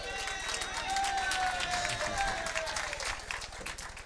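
Crowd applause at a 1991 duckpin bowling match, a steady patter of clapping that holds throughout, with a commentator talking over it.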